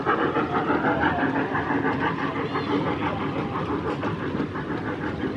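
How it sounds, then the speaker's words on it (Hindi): A train pulling out of a station in Montreal, a steady loud rumble with rattling wheel and carriage noise, close by and continuous, with no talking over it. "सो जी ट्रेन चली गई है हमारी"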